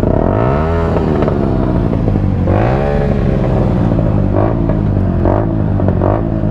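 A 2021 Yamaha YZF-R125 motorcycle engine revs repeatedly through its exhaust, loud and close, with rising and falling bursts and a rattly clatter between revs.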